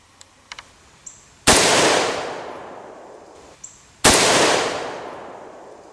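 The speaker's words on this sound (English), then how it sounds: "now we're going to shoot the buffalo bore" Two loud, close rifle shots from a Buffalo Bore supercharged .308 round fired at a steel plate outdoors, each a sharp crack with a long decaying echo, preceded by small clicks of handling.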